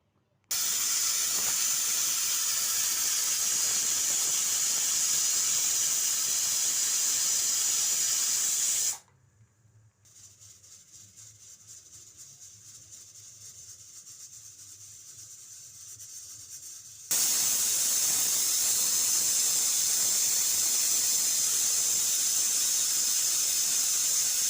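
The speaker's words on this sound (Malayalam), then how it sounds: "നമുക്ക് കുക്കർ അടച്ചിട്ടൊരു 5 വിസിൽ, 4 മുതൽ 5 വിസിൽ വരെ വിടാം" A pressure cooker cooking mutton gravy blasts a loud, continuous steam hiss, cuts to a quieter rattling hiss for several seconds, then returns to the full roaring release.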